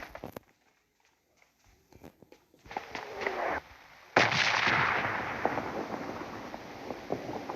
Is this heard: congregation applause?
no